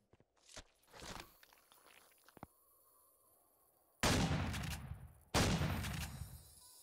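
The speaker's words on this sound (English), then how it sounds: "There's a lot to be said for the old frag grenade launcher." In the video game Empyrion Galactic Survival, a frag grenade launcher fires with a few faint early thumps, then two loud, close booming blasts that each roll off over about a second.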